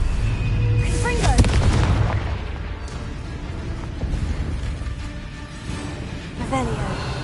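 Booming spell explosions from Confringo in a PS4 video game, several heavy blasts with deep low rumble and crackling bursts, over continuous game noise and a voice calling spells.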